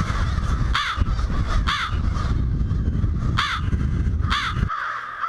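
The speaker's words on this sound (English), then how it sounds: "Everybody knows the caw, caw, caw of the crow" An American crow caws loudly and close by, giving four or five harsh, evenly spaced calls over a steady low rumble of background noise.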